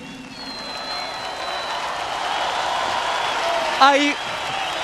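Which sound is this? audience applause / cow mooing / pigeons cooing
audience applause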